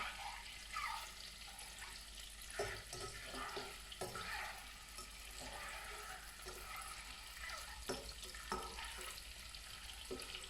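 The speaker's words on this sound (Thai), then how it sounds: "พอเราทอดไปไข่เขาก็จะเริ่มแข็งตัวนะคะ" Eggs fry in hot oil in a pan for a Thai son-in-law eggs dish, a steady close sizzle and crackle with occasional louder pops and stirring clinks, alone without talk.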